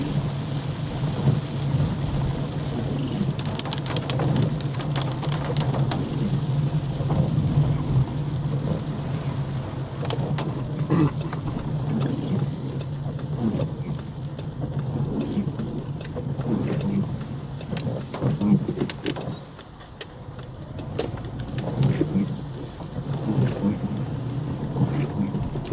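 Steady heavy rain drums on a vehicle moving through flooded streets in João Pessoa, with a low continuous engine rumble and occasional sharper splashes and thumps throughout.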